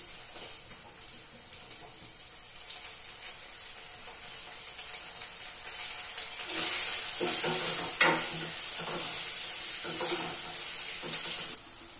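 Onions sizzle in a pan while being stirred, a quiet frying hiss with scraping strokes that swells louder and brighter partway through.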